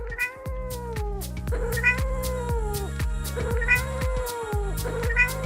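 Drawn-out, wailing cat meows repeat about every two seconds, loud and close, each sliding downward in pitch over a low rumbling background.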